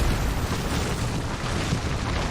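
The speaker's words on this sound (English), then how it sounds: "Oh, Bang ult goes down." Bangalore's ultimate artillery strike in Apex Legends, a loud, dense rumble of overlapping explosions that sustains without a break, with no voices.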